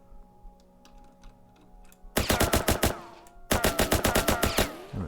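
Rapid automatic gunfire from a weapon in a Unity-built game, two loud sustained bursts of evenly spaced shots, the first after a quiet lead-in with faint clicks, the second after a brief pause.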